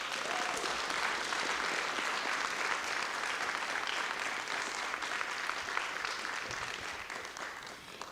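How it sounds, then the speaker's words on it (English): An audience claps steadily at a school district board of education meeting as an award recipient comes to the stage, the applause dense and sustained before tapering off at the end. "Let's give her a round of applause."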